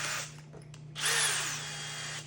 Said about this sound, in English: you're simply gonna drill this slow